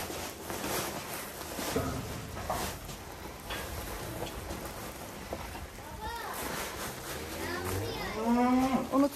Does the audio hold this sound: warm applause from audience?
no